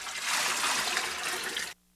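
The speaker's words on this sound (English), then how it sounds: "Add a gallon of heavily iced water" A gallon of heavily iced water pours steadily into a large bucket of turkey brine, a loud, even rushing splash lasting nearly two seconds before stopping abruptly.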